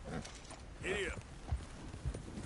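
Horse hooves clip-clop in a PS4 video game, a steady rhythmic trot of soft thuds under game sound and a voice urging the horse on.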